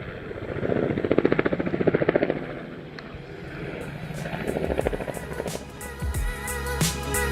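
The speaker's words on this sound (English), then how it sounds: "if I can fly the drone or not" A small camera drone flies in a forest setting, its steady buzzing hum rising and fading as it moves near and away, with a few sharp knocks toward the end.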